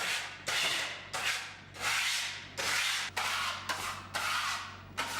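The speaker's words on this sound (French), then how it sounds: "À l'aide d'un couteau inox, étalez le produit en raclant le support." A stainless steel knife scrapes metal patina across a wall, a series of about eight close, loud rasping strokes in a steady rhythm, each one a broad hiss separated by short pauses.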